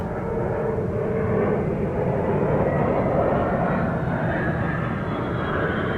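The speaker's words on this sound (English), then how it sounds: "Sound of a plane or something?" A propeller plane drones overhead in the pixel-art survival shooter ZERO Sievert, a loud, steady engine rumble filling the whole stretch without letting up.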